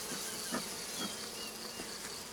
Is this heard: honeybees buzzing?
yes